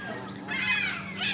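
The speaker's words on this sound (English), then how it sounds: "They're all seagulls. They all sound like this." A brief, nasal squawking seagull call rises and wavers over about a second, fairly close and loud.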